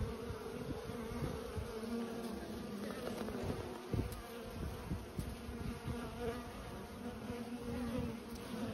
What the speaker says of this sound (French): l'entrée et sortie des abeilles.